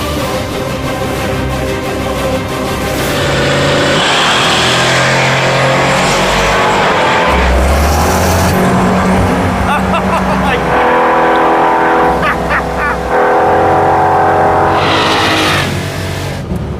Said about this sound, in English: the turbo small block Ford versus the blown big block Chevy, and Freiberger versus Finnegan.